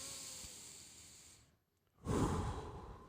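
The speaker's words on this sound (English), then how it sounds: "You know what that is? Darth Vader" Heavy, mechanical-sounding breathing through a mask: a long hissing inhale, a short silent pause, then a louder, rougher exhale, close and alone.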